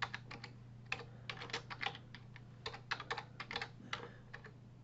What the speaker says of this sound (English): I'm going to just manually type in this tuple